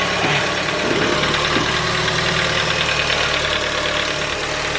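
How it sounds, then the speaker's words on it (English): The engine of a 2013 Ford Focus sedan runs at a steady idle right after an oil change, a loud, even mechanical hum with a light rhythmic ticking throughout. "So I'm now running the engine for a couple of minutes just to circulate the oil"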